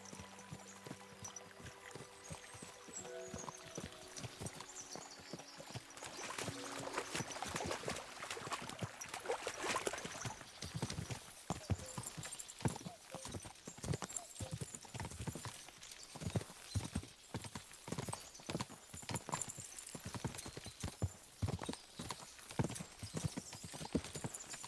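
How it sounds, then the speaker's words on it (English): Horses' hooves in Kingdom Come: Deliverance 2, rapid clip-clop of galloping that builds from a quieter start into a steady drumming run, with water splashing from a stream crossing. "As soon as we cross the stream, we'll give the horses a gallop again."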